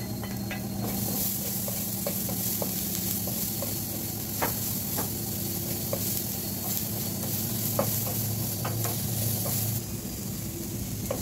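Chopped onion sizzles steadily in a hot pan, a continuous frying hiss with occasional clicks and scrapes from stirring, close and moderately loud, with no talking.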